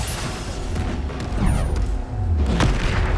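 A Bombarda explosion spell going off in Hogwarts Legacy, a loud booming blast with rumbling debris and crashing that rolls on through the clip, heavy and close.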